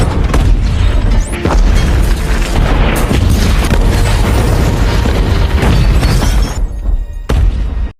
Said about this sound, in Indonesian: Yuli dan para pemberontak pun ujung-ujung membombardir tempat tersebut dengan meriam